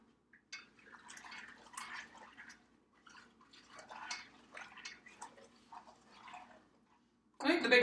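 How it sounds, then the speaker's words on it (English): Homemade pickles being stirred in their liquid, with soft intermittent sloshing and wet swirling in bursts close by, ending in a louder splash near the end. "Stir this up again."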